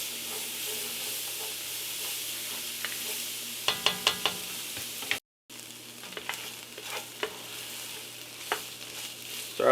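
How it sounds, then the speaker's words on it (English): Ingredients for Cajun red beans sizzle in a pan while a spoon stirs them often, with scraping strokes and clicks over the steady frying hiss, a short burst of quick taps midway. "We're going to stir it frequently."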